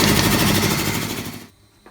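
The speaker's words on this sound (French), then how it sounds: "on va allumer le compresseur pour pouvoir souffler à l'intérieur du carburant" Air compressor blasting air through a Solex carburettor being cleaned, a loud rapid rattling hiss close up for a second and a half, then cutting off abruptly to near quiet.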